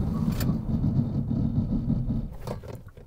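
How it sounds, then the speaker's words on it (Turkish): A Hyundai Bayon 1.4 MPI braking hard from 100 km/h, heard from inside the car as a heavy low road and tyre rumble that fades toward the end, with brief scraping bursts near the start and near the end. "Şu anda 100 ile gidiyorum ve frene asılıyorum"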